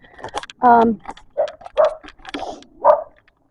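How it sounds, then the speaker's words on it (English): A dog barks in a few short, separate yaps spread across a few seconds at moderate distance, with quiet gaps and light handling noise between them. "Ignore the dog."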